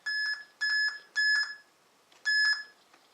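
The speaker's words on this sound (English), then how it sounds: "set the alarm tone and the pitch, the audio alarm" A CompuMed medication dispenser's alarm sounds a clear electronic beep tone, four short evenly spaced pulses with a pause before the last, alone and fairly close.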